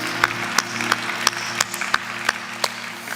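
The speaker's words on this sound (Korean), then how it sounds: "주님께 모든 영광의 박수 올려드립니다" A church congregation claps together after a hymn, a series of sharp, fairly regular claps about every third of a second over a faint sustained background tone, moderately distant.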